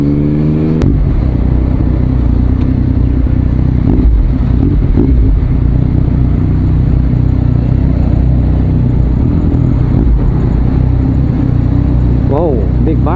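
A Yamaha Tracer motorcycle engine rumbles steadily throughout on a ride in Kota Kinabalu, Sabah, Malaysia, revving at moments, with traffic-like clatter around it.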